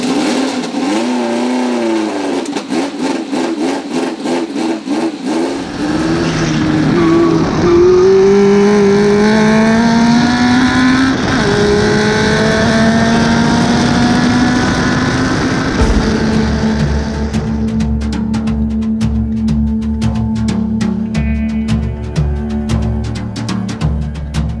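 A Scarab Formula 1 race car engine runs loud and close, revving up with rising pitch sweeps, dropping back and climbing again, then settling into a steady rough idle, with no talk over it.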